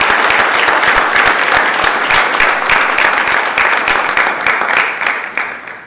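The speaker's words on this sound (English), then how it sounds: "If you could give him a big round of applause" Loud, sustained applause from the audience fills the Senate chamber, a dense wash of clapping that stays even for several seconds and then gradually thins out.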